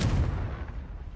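Confringo fire spell blast in the Hogwarts Legacy video game, a single heavy booming impact that decays into a rumbling tail, loud and close.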